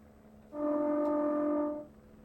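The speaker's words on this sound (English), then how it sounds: "Inappropriate use of my horn" A Class 319 electric train's horn in Train Simulator 2021 sounds one steady, loud, sustained tone lasting just over a second, heard clearly over a quiet cab background.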